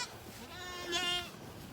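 A single goat on a farm gives one short, wavering bleat, fairly close and moderately loud, over faint background noise.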